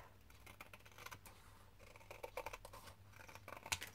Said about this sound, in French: on va venir découper ce qui dépasse